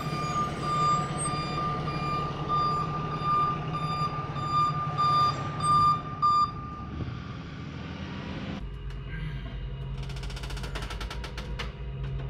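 A tow truck's reversing alarm beeps steadily and repeatedly over a low engine rumble, then cuts out, leaving only the deeper engine and mechanical noise.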